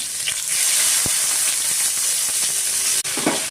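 Brinjal pieces cut flower-style and soaked in salt water fry in oil with a loud, steady hiss and sizzle, close up, with a couple of brief clicks and a short dip near the end, and no speech.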